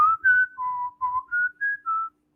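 A person whistles the five-note Close Encounters of the Third Kind tune, clear and close, with about eight short separate notes in a rising and falling phrase, then silence.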